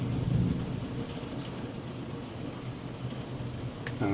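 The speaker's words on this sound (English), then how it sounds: "We happen to be getting some rain right now." Steady rain shower during a storm on a farm, a continuous wash of falling water with a low rumble of thunder near the start, heard alone without voices.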